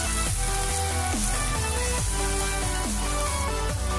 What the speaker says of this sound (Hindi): वन मिनट तक हम इसे पहले अच्छे से फ्राई होने देंगे।